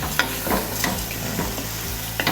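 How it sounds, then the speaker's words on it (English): Arborio rice sautés in a pan for mushroom risotto with a steady frying sizzle, broken by close scraping and stirring strokes at an irregular pace, and no talking. "we're going to start that saute process to release some starches"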